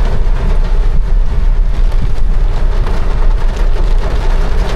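Loud, dense rush of heavy rain pounding a surface in Canlaon City, steady and unbroken, with a low rumble like traffic beneath it.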